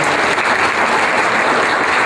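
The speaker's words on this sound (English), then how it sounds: "Let's give her a big round of applause." Loud, close applause rises from the audience at a startup event, a brief burst of dense clapping.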